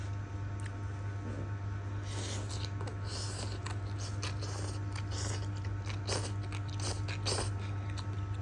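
Spicy instant noodles are eaten close to the microphone in a quiet mukbang, with repeated soft slurps, bites and chewing crunches over a steady low hum.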